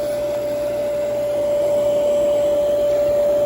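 The motor of a vintage Emenee organ runs with a steady, even whir carrying a clear sustained tone, close and constant throughout with no speech.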